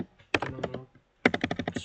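Keys clatter on a computer keyboard in two quick bursts of typing, close and crisp, the second ending in several rapid taps including an enter press.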